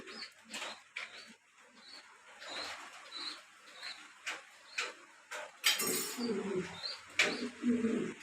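Pigeons for sale coo in repeated soft, throaty calls, close by, with wing flutters and scuffling mixed in and a burst of rustling near the end.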